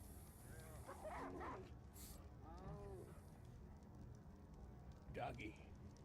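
A dog in a Western roleplay video game gives several faint, distant barks with some mechanical clicking and low background noise.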